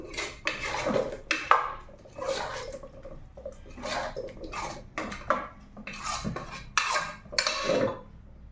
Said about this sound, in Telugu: కొద్ది కొద్దిగా పోసుకొని కలుపుకుందాం